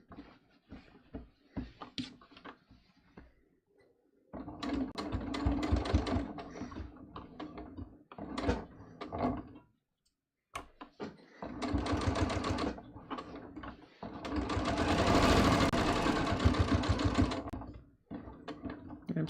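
Sewing machine top stitching a patch pocket, running in several sustained bursts with short pauses between, close and fairly loud, the longest run near the end.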